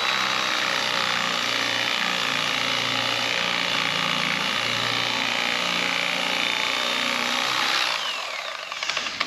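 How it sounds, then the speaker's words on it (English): A harsh, continuous grinding and rasping of a tool cutting through a stiff fiberglass bumper, loud and steady, easing off near the end. "Much easier just cutting away some of it before you start sanding on it."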